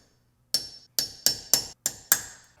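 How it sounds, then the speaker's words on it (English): Six sharp metallic hammer taps, close and loud, ring out at an uneven pace while tab washer tabs are knocked down to lock the wheel bearing nuts on a 100 Series Land Cruiser. "we now just need to pull down the tabs on our tab washer thing and lock each of the 2 nuts into place"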